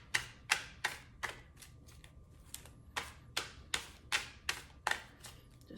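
Tarot cards are shuffled and pulled in a quiet room, a series of crisp slapping and riffling taps in uneven rhythm, close and fairly soft.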